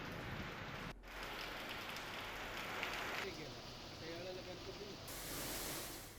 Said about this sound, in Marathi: मुसळधार पावसामुळे रस्त्यावरून पाणी वाहत होतं